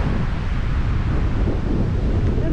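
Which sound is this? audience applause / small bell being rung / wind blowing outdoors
wind blowing outdoors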